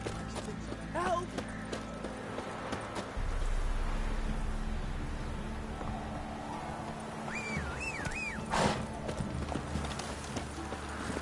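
A galloping horse in The Witcher 3: Wild Hunt, quick continuous hoofbeats carrying throughout at close range, with game ambience and a few short whistling tones layered over them.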